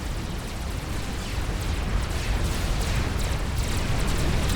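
A unit explodes in Forged Alliance Forever, a loud, rumbling blast that swells into a sustained roar of crackling debris and holds at full strength to the end.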